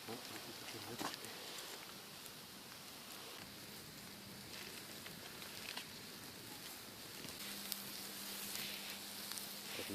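Kupaty sausages sizzle and crackle on a grill over a campfire in a snowy winter forest, a constant faint hiss with occasional pops throughout, heard up close and alone.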